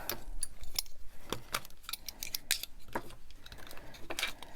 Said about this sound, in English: Take all our clamps off.